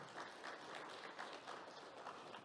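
A crowd applauds steadily at an academic lecture, a dense patter of many hands clapping at a fairly soft, distant level throughout.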